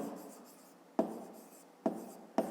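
Pen writing on paper during a fifth-grade maths exercise, a soft continuous scratch with three sharper taps or strokes spaced through, close and quiet, with no talk.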